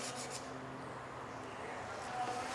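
An engraving plate being rubbed back and forth with water, a steady, soft, continuous rasping scrub at low level with no pauses.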